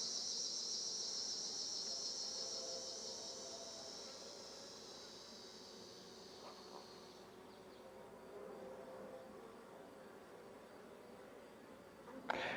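Honey bees working an open hive frame without smoke, a steady close buzzing hum that fades partway through, with a brief louder knock near the end.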